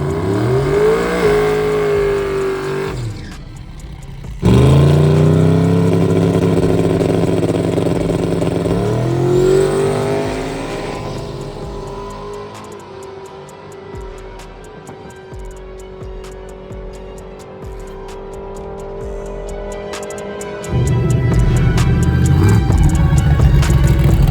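A turbocharged drag car on a 10-bolt rear end accelerates down the track, its engine note climbing loud and close through several gear changes, then falling away into a sustained drone before rising again.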